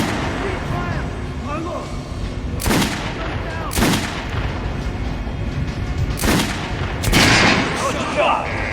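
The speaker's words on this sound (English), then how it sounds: "Try shooting for the center of the regular dummy's chest." Gunfire in Metro: Last Light Redux as shots hit a target dummy, with four loud, sharp reports spaced a second or more apart over a dense ambient rumble of the game scene.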